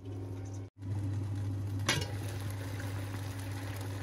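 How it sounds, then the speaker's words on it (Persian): Lid set onto a pan of lentil and eggplant stew, a single clink over a steady low hum of the stew bubbling on the stove. "در تابه رو میذاریم."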